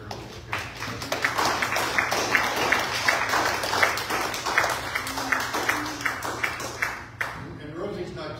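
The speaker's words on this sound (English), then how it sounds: "Give a round of applause for them" A church congregation at a Sunday worship service applauds the choir: dense, steady clapping from many hands, fairly close and sustained for several seconds before stopping abruptly, with brief talk at the end.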